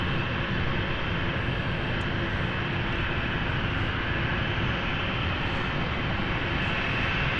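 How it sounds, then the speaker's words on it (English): Loud, continuous jet roar of an Embraer 190 arriving at London City Airport, a dense steady rumble with high whine that holds evenly throughout without speech. "And inbound is our Nice flight, the Embraer 190."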